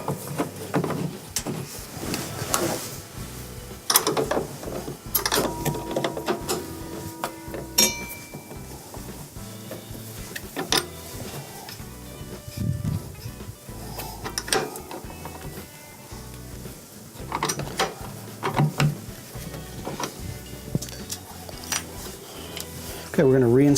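Ratchet tightening a half-inch ground screw on a Whirlpool washer motor: repeated quick clicking bursts of the pawl, close and moderately loud, interspersed with handling clanks and someone talking.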